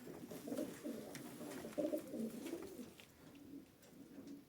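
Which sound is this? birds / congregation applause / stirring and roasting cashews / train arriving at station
birds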